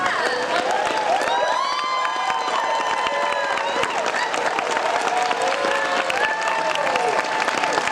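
A crowd at a San Diego Comic-Con panel for Star vs the Forces of Evil claps continuously for the show's crew, with shrill cheers and whoops rising over the dense applause.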